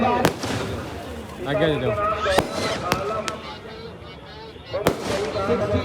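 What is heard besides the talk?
fireworks, 60-shot multi-shell display at a fair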